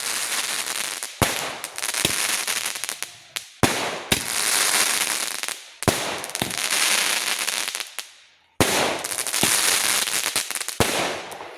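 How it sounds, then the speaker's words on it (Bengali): Firecrackers go off at dusk in a village, a series of loud close crackling bursts that each fizz and rattle for a second or two, with sharp pops marking the breaks between them. "দেখো বাজি ফাটাবে বলে এখন রেডি।"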